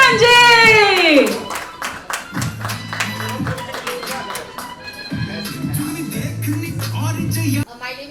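An audience claps to welcome actor Ravi Kishan at a promotional press event, with scattered hand claps and rhythmic clapping bursts while voices and music run underneath.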